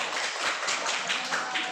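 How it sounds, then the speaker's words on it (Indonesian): Audience applause at a school presentation in Indonesia, steady dense clapping from a small group at moderate distance, without speech. "Tepuk tangan dulu, Ibu."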